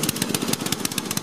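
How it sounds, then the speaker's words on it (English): Gravely 8163-B tractor engine running rich with a 38-inch snowblower attached, a steady rapid chugging with regular pulsing beats, close and fairly loud with no talk. "The motor's running extremely rich right now"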